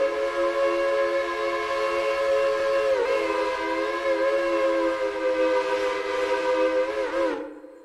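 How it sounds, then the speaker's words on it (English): A B&O 3 chime steam whistle from a mod for the train game Railroader gives one long, loud, sustained harmonic blast with a brief pitch dip partway through, then stops abruptly into a fading echo. "We have B&O 3 Chime. This is probably one of my favorites from this list"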